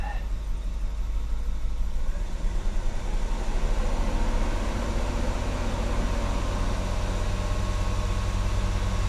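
A Mercedes 560SEC engine runs steadily and loudly throughout, a deep continuous rumble with an even, unbroken drone and no pauses.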